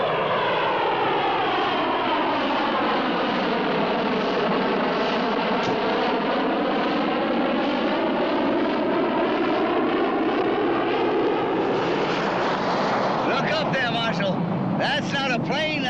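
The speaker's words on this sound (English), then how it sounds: "And now here she is, America's first SST." Roaring jet engines of America's first SST supersonic airliner fill the scene with a loud, steady, sustained rumble that swells and shifts in pitch, with a faint voice near the end.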